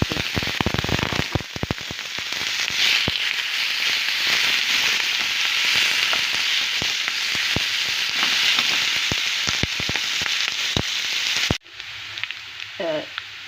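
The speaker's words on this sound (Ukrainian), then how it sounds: "Я розігріла сковорідку і зараз буду все це смажити" Loud, dense sizzling and crackling of diced pork fat and meat frying in a hot pan, with frequent sharp pops and spatters, cutting off abruptly near the end.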